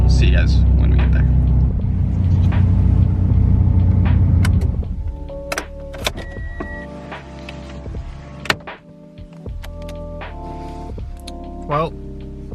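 A rebuilt Mitsubishi Eclipse GSX cruises along the road, its engine and road noise forming a loud, steady rumble that eases off partway through, leaving quieter cabin sounds and a few faint clicks.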